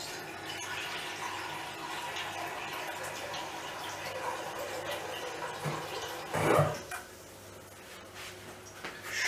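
Water runs steadily into a steel pot that holds a little oil, a continuous splashing pour in a home kitchen with a brief louder sizzle or splash burst partway through.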